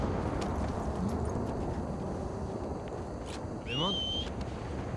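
Horse hooves clip-clop steadily in a western-themed video game, a near, even patter of footfalls beneath a windy hiss, with a brief whistling cry near the end.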